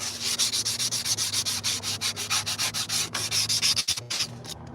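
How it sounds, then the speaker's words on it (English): Fine sandpaper rubs back and forth over a trailer spindle in a quick, steady rhythm of close, loud scratchy strokes, with no talking. "So what I did is I got some real fine sandpaper, like this. I was going through it"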